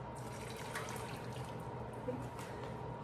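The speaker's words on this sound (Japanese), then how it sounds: "では瓶を取り出して中のお湯を出します。" Hot water pouring and splashing out of a glass canning jar being emptied after ten minutes of heating for hot-pack meat canning, a steady running, trickling wash close up with no talking.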